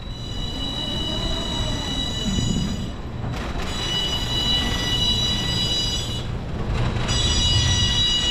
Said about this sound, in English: Let's show you that ride, man. That ride's going up, coming down.